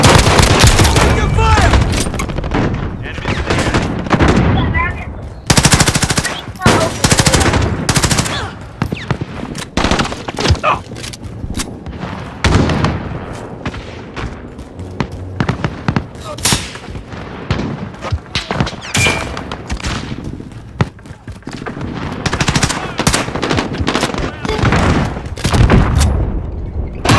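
Dense Call of Duty: Modern Warfare firefight: loud automatic gunfire in bursts and sustained fusillades with heavy booms and thuds. Shouted voices break in now and then.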